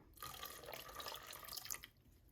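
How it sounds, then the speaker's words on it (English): Orange essential oil pours steadily into cold process soap batter, a close, continuous liquid trickle that runs for about two seconds before tapering off, with no talking. "So all we're going to do here is pour in the orange essential oil."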